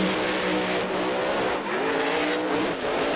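Drag race car at an NMRA NMCA Super Bowl event holding its engine at high revs to build boost and RPM, a loud, sustained mechanical roar with rising and falling pitch and no talk.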